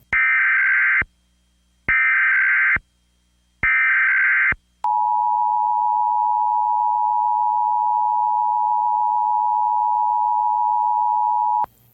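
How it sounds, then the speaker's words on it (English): An emergency alert system test tone plays over AM radio: three loud, buzzy data bursts separated by short gaps, then a long, steady single attention tone lasting about seven seconds. "This is a test of the emergency alert system."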